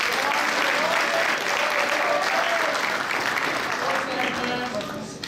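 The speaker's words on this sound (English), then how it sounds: "Let's give the JV players a round of applause" Sustained applause from a crowd honoring junior varsity players at a high school athletic banquet, steady and dense throughout before tapering slightly at the end.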